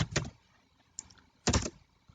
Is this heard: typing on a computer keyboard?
yes